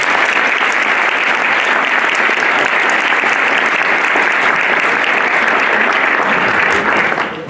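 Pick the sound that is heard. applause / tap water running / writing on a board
applause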